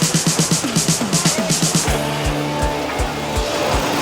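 A race car on a racetrack burbles with a fast, pulsing rhythm, then pulls away into a loud, steady engine drone broken by a few low thumps.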